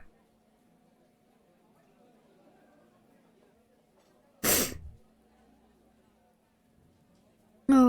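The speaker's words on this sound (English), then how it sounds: "I hate sneezing so much." A single sharp sneeze bursts out suddenly, loud and close, amid a quiet room, followed near the end by another abrupt loud burst.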